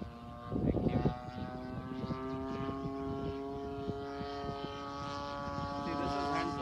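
Radio-controlled Phoenix Spitfire model airplane flying just after takeoff, its engine drone a steady, moderately distant hum with people talking over it at the field.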